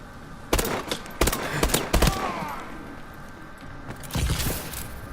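Bal-27 rifle fire in Call of Duty Advanced Warfare at medium range, several sharp, loud bursts of rapid shots in quick clusters with brief gaps between, a final burst near the end, no talk.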